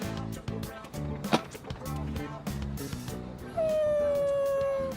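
A dog howls mournfully in the video game Persona 3 Reload, a sustained falling howl rising above game music and scattered sound effects near the end.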